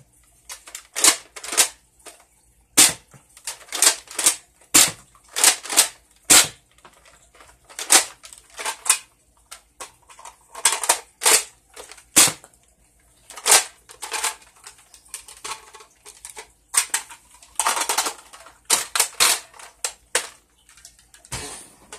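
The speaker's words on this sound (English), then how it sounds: "Now, that was six darts fired, stream-wise anyway." Nerf Longstrike CS-6 toy blaster from 2009 shooting six foam darts, a run of sharp plastic clacks and pumping rattles in quick bursts, loud and close with short pauses between.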